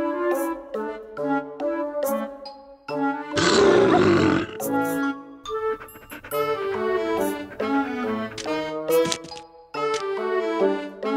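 A cartoon puppy in a mobile animal rescue game lets out a loud roar of about a second and a half, a rough burst that cuts through bright, bouncy game music playing throughout.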